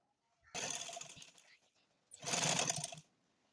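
A sewing machine runs stitches along the belt of a tulip shalwar in two separate loud bursts, each close and steady, with a short pause between them.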